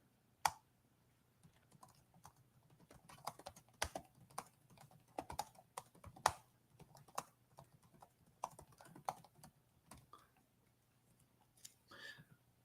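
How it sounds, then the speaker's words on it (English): Computer keyboard typing in irregular bursts of clicky keystrokes, close and fairly quiet over a low steady hum, with no talking. "Okay, so I'm going to type it in here."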